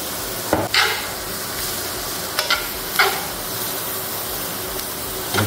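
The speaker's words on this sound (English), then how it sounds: "we got the peppers and the onions right here. We want to go ahead and start grilling those up" Peppers and onions sizzling and frying in a hot pan, a steady close hiss of cooking with a few sharper bursts as the vegetables are stirred, no voices.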